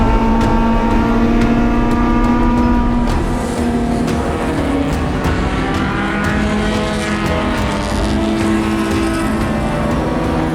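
Several race cars, an Acura among them, accelerate together down a hill from a green-flag start toward the first turn, their engines a loud, continuous roar with rising harmonic pitch and some tire squeal, close and steady throughout.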